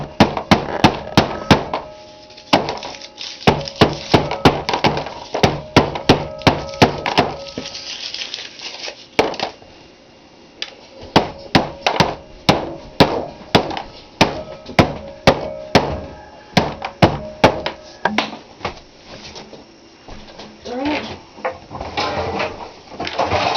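Repeated sharp knocks and thunks of Toll House chocolate chip cookie ingredients being broken into smaller pieces in a home kitchen, irregular bursts of close impacts with brief pauses between them.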